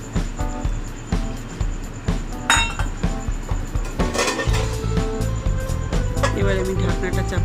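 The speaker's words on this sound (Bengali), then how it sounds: "এবার আমি ঢাকনাটা চাপা দিয়ে দিলাম" A lid set onto a cooking pan of arr and tangra fish curry gives a few metallic clinks and clatters among close kitchen noise, with a steady sizzle and bubbling underneath.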